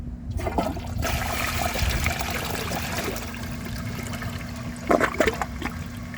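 A Vortens Vienna toilet, a 2001 model, flushes a washcloth down with a steady rushing, gurgling whoosh that runs the whole time and swells briefly near the end as the bowl drains, close by and with no one talking.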